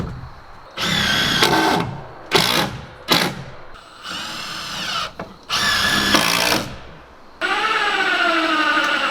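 Power saw cutting wooden wall studs during a cabin build, with several loud bursts of whining cutting separated by short pauses, each rising and falling in pitch as the blade runs up and winds down, close and alone.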